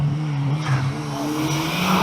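A turbocharged Volvo 340 with plenty of boost accelerates hard at a retro car meet, a loud, steady engine drone building with tyre noise, close by and without talk.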